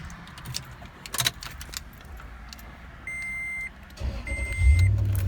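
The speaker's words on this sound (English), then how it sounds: "let's start my truck up and see if the light's off" Keys jangle in a truck's ignition, two electronic chimes sound, then the truck engine rumbles up near the end as it is started with the key.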